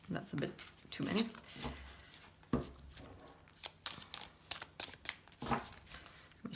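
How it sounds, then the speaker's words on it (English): A deck of tarot cards being shuffled in repeated bursts of riffling and slapping at close range, with a person talking intermittently over it. "My shuffling did not get better."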